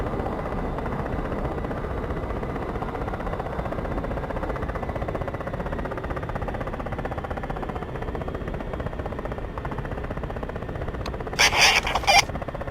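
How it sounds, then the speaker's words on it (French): Helicopter spooling up its rotors at a military base, a steady, loud, continuous engine and rotor roar filling the whole stretch, with a brief brighter burst near the end. "j'entends un autre hélicoptère qui est en train de mettre ses rotors en route"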